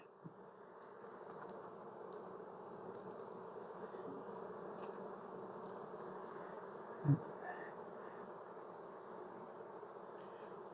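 Honey bees buzz steadily in an open, recently requeened hive full of brood, a continuous close droning hum with a brief soft thump partway through.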